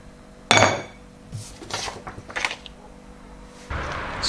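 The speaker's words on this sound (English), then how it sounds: "Now you just add some boiling water, give it a bit of a stir." A spoon clinking and scraping inside a cup while boiling water is stirred, a sharp opening clatter followed by a few lighter ringing taps and a final rush of noise, close and alone.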